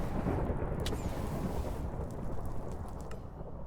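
Lightning thunder strike in the Minecraft video game, a loud crackling rumble with rain-like hiss and a few sharp cracks, sustained for several seconds without speech.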